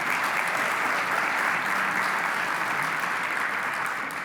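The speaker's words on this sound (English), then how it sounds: "Please give Assistant Secretary Bell a big round of applause" An audience at a winter convening claps steadily and loudly for an assistant secretary, a dense, even wash of applause that holds for the whole stretch and tapers slightly at the end.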